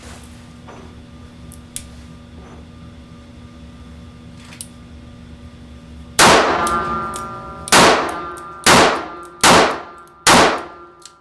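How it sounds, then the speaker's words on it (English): Five loud gunshots from a small Wyatt Deep Cover five-shot revolver, fired in an evenly spaced series after a quiet stretch, each a sharp crack with a ringing decay. "There it is, 5 shots out of a little Wyatt Deep cover."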